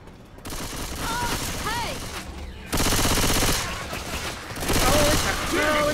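Rapid automatic gunfire and heavy bursts of shooting in the zombie game Left 4 Dead, loud and sustained with short gaps, while voices speak over the shooting.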